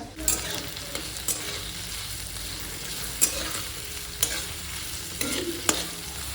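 Chopped onion fries in a pan with a steady soft sizzle, interrupted now and then by a few sharp scraping stirs.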